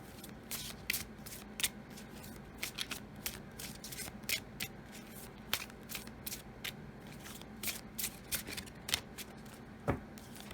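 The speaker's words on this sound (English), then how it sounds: "Let's draw a few of the Color Goddess cards for you" Color Goddess oracle cards being shuffled and drawn, a rapid run of crisp, close flicks and riffles in irregular bursts throughout, fairly quiet over a low room hum.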